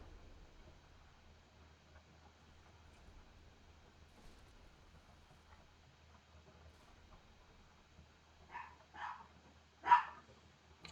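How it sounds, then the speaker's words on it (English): A dog barks three times near the end, fairly close but not loud, after a long stretch of quiet low background hum. "Sorry, that's my dog."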